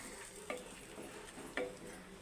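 A spoon scrapes twice through curry simmering with added water in a pan, soft stirring strokes over a steady low sizzle.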